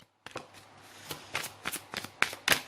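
Tarot cards riffled and shuffled by hand, a close series of crisp flicking bursts growing busier and sharper toward the end, with a few cards snapping loose.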